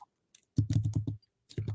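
Quick bursts of typing on a computer keyboard, a close run of crisp key clicks followed by a short pause and another brief flurry.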